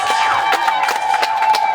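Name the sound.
wedding guests applauding the groom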